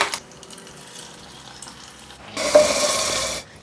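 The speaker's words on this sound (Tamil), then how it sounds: "இப்போ இது குழம்புல கொட்டிடலாம்" Hot tempering with curry leaves hits drumstick leaf sambar, a loud close burst of sizzling and hissing that lasts about a second, following a quieter stretch of kitchen stirring.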